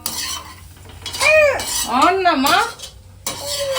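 Chicken rice ingredients sauté in a home kitchen pan while a spoon stirs and scrapes against the metal, with a soft sizzle beneath. A high, gliding voice-like sound rises and falls near the middle.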